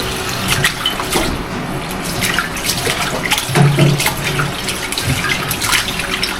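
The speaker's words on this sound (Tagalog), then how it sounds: "Hugasan ko lang tong ating karne." Pork meat is washed by hand under a running kitchen tap, giving a steady close rush of water with irregular splashes and sloshing throughout.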